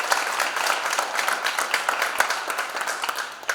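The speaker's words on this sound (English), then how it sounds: "If you would join me in a round of applause for our speakers, all of our speakers for today." Audience at a faith community event on the opioid crisis gives a steady round of applause for the speakers, dense clapping throughout at moderate volume.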